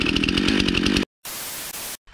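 Stihl chainsaw in a forest running loud and close for about a second, then cutting out, followed by two short bursts of rough, noisy engine sound separated by a brief gap.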